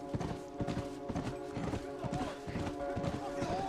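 Horse hooves galloping in The Last of Us Part II, a steady rapid clip-clop rhythm heard up close over continuous game ambience, with a voice or two murmuring underneath.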